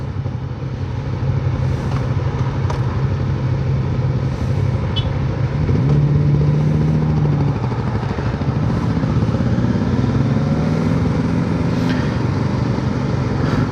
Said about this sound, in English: The sound of the KLR is so familiar.